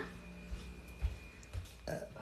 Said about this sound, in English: Excuse me. Excuse me. I burped. I burped.